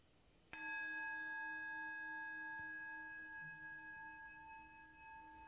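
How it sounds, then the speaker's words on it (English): A single bell is struck once, giving a clear ding whose bright ringing tone sustains and slowly fades over several seconds in a quiet room. "as we hear the resonance of the bell"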